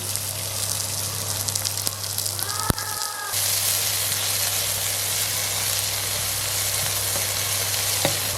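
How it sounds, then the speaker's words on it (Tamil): Onions, curry leaves and green chillies hit hot oil for a Jaffna-style gram curry, setting off a loud, continuous sizzle that swells just after the ingredients go in, with a few clinks from the pan. "வெங்காயம், கருவேப்பில்லை, பச்சை மிளகாய் எல்லாம் போடுறோம்"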